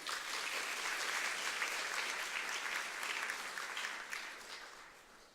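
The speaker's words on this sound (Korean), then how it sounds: "우리 박수로 맞이하겠습니다" A church congregation claps steadily to welcome a speaker for a testimony and sermon: continuous, even applause from a sizeable crowd that tapers off in the final second.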